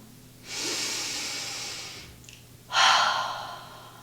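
Deep breathing during yoga practice, one long audible inhale, a pause, then a stronger exhale, close and alone.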